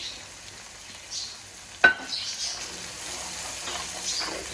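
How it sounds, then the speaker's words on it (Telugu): Ground coconut masala paste fries in a pan for an Andhra fish curry, giving a soft steady sizzle with light stirring scrapes and one sharp clack of a spoon against the pan. "ఇది కూడా పచ్చివాసన పోయే వరకు కూడా వేయించుకోండి ఇట్లా"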